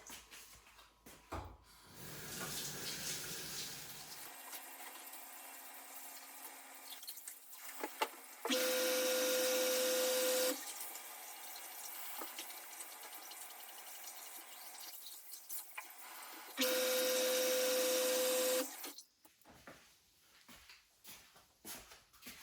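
Bream fish are rinsed under a running tap, with a steady hiss of water and two louder stretches of strong flow that start and stop abruptly, along with splashes and handling noises.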